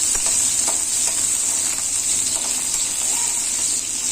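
Continuous bright sizzling of chopped green chili frying in a pan, with faint scraping taps of a spoon stirring now and then.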